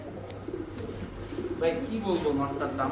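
A white Dragon Huma male pigeon coos softly in short, low, throaty phrases beneath a voice talking nearby.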